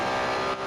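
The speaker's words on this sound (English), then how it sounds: "The 904 just sounded like it was screaming." A Porsche 904 race car in a racing video game lets out a short, loud, steady high-pitched engine scream at sustained revs.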